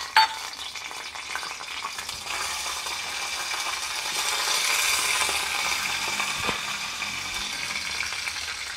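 Mustard seeds and cumin sizzle and crackle in hot oil in a pan while a cucumber masala curry is being cooked, a steady frying hiss with a few sharper pops, close and fairly even throughout.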